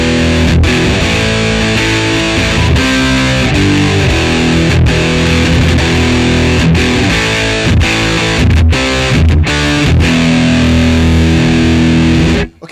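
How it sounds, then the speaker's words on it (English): A loud electric guitar plays chords through a Marshall BluesBreaker BB2 overdrive pedal at full volume, thick and saturated distortion, continuing steadily before cutting off abruptly at the end. "we're probably going to get a little bit more distortion out of this"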